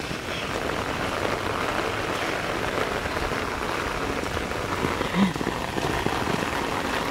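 Heavy rain falls steadily and loudly outdoors, a dense continuous wash of drops close by with a brief voice faintly audible partway through.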